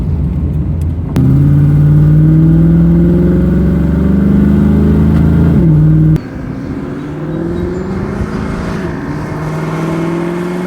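A 1992 Chevy Camaro RS V8 engine revs hard with a deep, throaty roar, holding high for several seconds, dropping abruptly, then settling into a rumbling idle with smaller revs.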